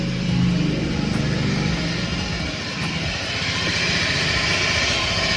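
A 2017 Honda Beat scooter engine runs continuously nearby, a steady droning hum with a fairly loud and even texture throughout and no speech.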